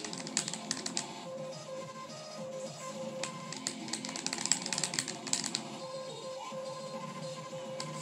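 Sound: keyboard clacking while playing a rhythm game

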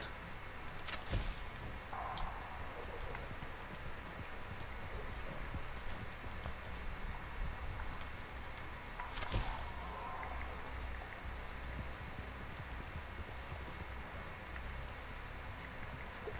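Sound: horse hooves clip-clopping in a video game

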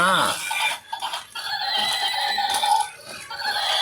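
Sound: toy horse neighing

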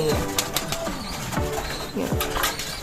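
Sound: bird cooing

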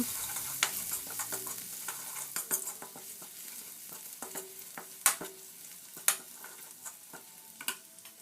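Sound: chili and garlic stir-frying in oil

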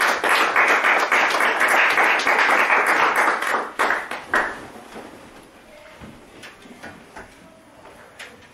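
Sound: congregation applauding in church service

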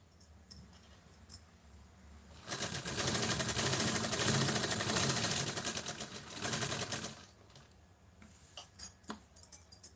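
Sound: sewing machine stitching falls onto a saree

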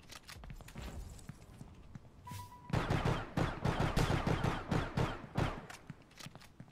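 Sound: gunfire in the Star Atlas video game

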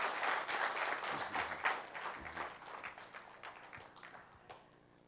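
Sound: audience applause for workshop participants

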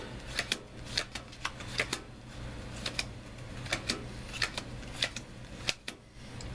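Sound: counting off playing cards for a card trick

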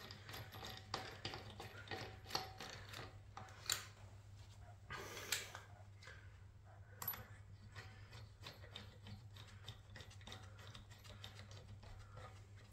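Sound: Jaguar XK wheel nuts being tightened

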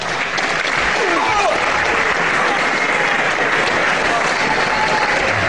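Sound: audience applause for wrestling match winner

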